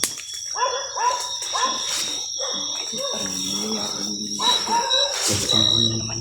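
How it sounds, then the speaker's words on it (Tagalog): A dog barks and yelps repeatedly nearby in short bursts, with people talking around it and a high insect-like whine in the background. "Tumuhon na naman yung aso."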